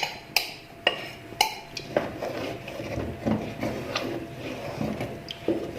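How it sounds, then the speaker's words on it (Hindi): Makhandi halwa being stirred in a pan over low heat, with a utensil knocking and scraping against the metal in sharp irregular taps, several louder clacks early on, and softer scraping and shuffling between them. "मुसलसल हमने हिलाते रहना है ताकि ये साथ ना लगे"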